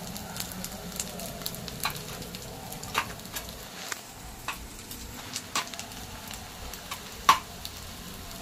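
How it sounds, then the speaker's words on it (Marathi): Ingredients for ragda pattice fry in a pan with a low, continuous sizzle and scattered small pops, moderately quiet and close, with no voices. "चलो फ्राय करून घेऊया आपण."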